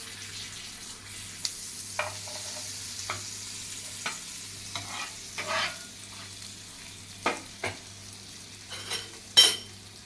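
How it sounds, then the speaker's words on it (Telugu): Rolled chicken frankies frying in butter in a pan make a soft continuous sizzle, punctuated by clinks and scrapes of a utensil that grow louder toward the end, with no talking. "చుట్టుకున్నటువంటి ఈ ఫ్రాంకీస్ పెట్టి రివర్స్లో పెట్టి వైట్గా రెండు వైపులా కాసుకోవాలి"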